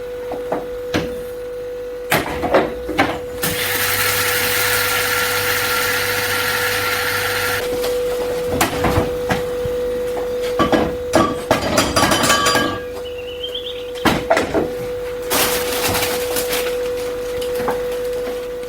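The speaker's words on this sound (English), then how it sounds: "Right, I'm going to grind these up." Electric grinder milling whole linseeds into fine powder. A loud, steady whirring runs for several seconds, then comes a series of clattering bursts and pulses with a constant hum underneath.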